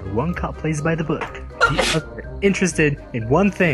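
One sharp sneeze bursts out in the middle of lively chatter among players at a Cards Against Humanity game, and the talking carries on right after it.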